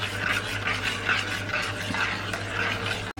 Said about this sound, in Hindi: और इसे अच्छे से मिक्स करेंगे